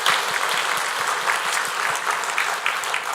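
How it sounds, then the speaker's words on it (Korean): A church congregation applauds during a Thanksgiving worship service, producing dense, steady clapping from many hands throughout, loud and close, with no voices standing out. "우리 다시 한번 하나님께 감사와 영광의 박수를 드리겠습니다"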